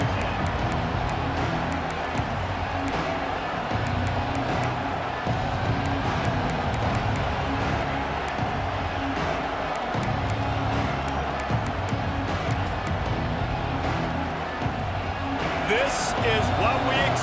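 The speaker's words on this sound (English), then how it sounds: "This crowd ready to make its presence known." Stadium crowd noise from the College Football 26 video game, a dense steady roar sustained throughout under continuous play-by-play commentary, with a brief swell of cheering near the end.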